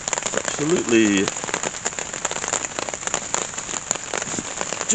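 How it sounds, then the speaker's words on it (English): Heavy rain pours onto a hammock tent at night during a stealth camp, a dense, loud, continuous patter close overhead, with a brief voice near the start. "So, it said it wasn't going to rain, but obviously it's raining."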